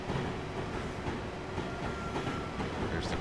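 Amtrak Acela train running on the Northeast Corridor in Train Simulator 2016, a steady close rumble with continuous wheel and rail noise and a faint tonal whine throughout.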